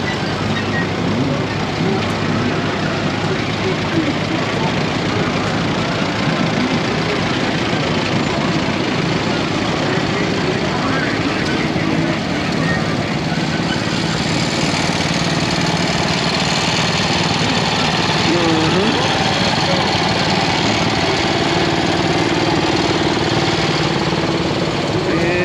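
A tractor engine idles steadily at an outdoor tractor show gas-up, a loud, constant rumble lasting throughout with a noisy crowd setting behind it.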